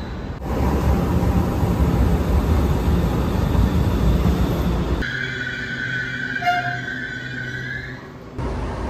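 A Manila LRT Line 1 light rail train rumbles past steadily for several seconds, then a higher metallic whine and squeal take over as it moves along the track, with no talking.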